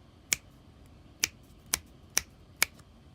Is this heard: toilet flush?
no